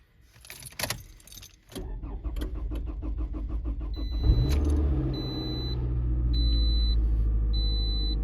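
A car cranks and its engine catches after a timing chain replacement, settling into a steady idle rumble with a faint electronic chime repeating; keys jingle just before the start.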